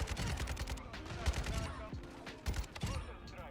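Rapid BAS-P and Fennec gunfire in Modern Warfare 2, dense bursts of close shots in quick succession with echoing tails, trailing off briefly, then another burst.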